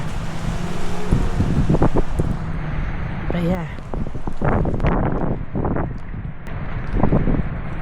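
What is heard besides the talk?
strong wind of Storm Eowyn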